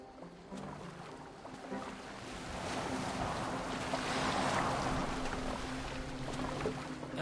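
A boat moving across water in the video game Assassin's Creed Valhalla, with a broad rushing wash of water and wind that swells through the middle and holds steady, alone with no talk.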